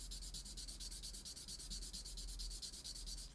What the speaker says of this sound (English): We'll just sand this thing right along the bottom.